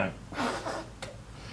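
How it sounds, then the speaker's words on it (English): A few short, breathy bursts of air through the nose, close and fairly quiet, ending in a sharper snort. "Blow my nose."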